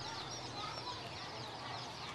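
Chickens cluck faintly at a busy market, their calls low in the mix under a constant background hubbub.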